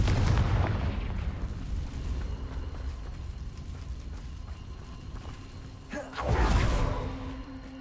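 A Confringo fire spell blasting in the Hogwarts Legacy video game, a loud whooshing boom at the start that rumbles away, then a second sharp blast and roar near the end, with no voices.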